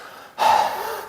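A voice imitates an elderly woman's heavy, labored breathing as she gets into a car after walking with a cane, a single breathy gasp-like exhale that starts abruptly and trails off, close and alone.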